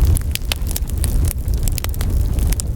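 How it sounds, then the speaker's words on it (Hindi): Crackling camp bonfire burning at night on a nature camping trip, with a steady low roar and scattered sharp pops and snaps throughout, fairly close and with no talking. "Camp fire. और ये जल उठा हमारा रात का रोशनी।"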